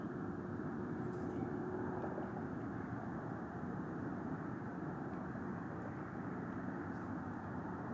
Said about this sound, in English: And there's another airplane as well